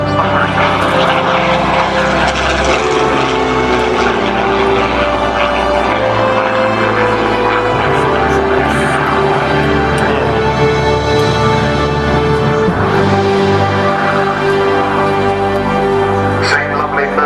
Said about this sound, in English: Same lovely Merlin engine sound